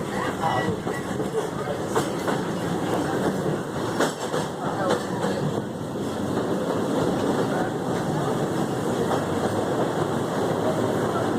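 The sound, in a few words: train running on rails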